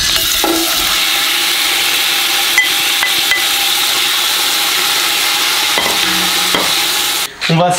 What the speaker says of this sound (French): dans un faitout, on va faire revenir notre viande